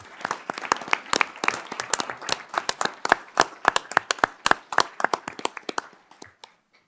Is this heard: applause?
yes